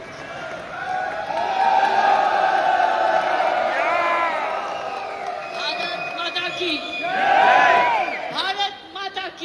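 An audience at a 25th anniversary celebration event in India cheers and shouts loudly, a continuous roar of voices swelling near the end, with a sustained tone and some speech mixed in.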